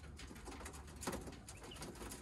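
Coturnix Jumbo Wild quail, a large meat breed, calling with soft repeated coos and chirps over steady background noise, with one brief louder call partway through.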